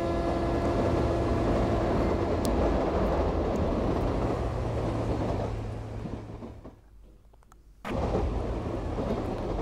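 A steady loud rumble and roar of the Karnataka Express train running at speed while overtaking the Mahamana Express, briefly dropping away to a quieter lull before the roar returns abruptly.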